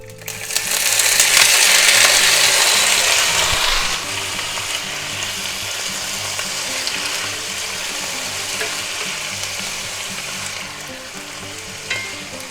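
Mushrooms land in a hot oiled pan and burst into a loud, bright sizzle that settles into a steady frying crackle, with faint scraping of a utensil stirring them.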